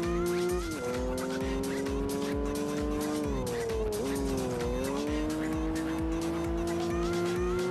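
Car engine droning steadily in Gran Turismo 5, a loud continuous racing whine with small pitch dips as gears shift, tires squealing underneath throughout.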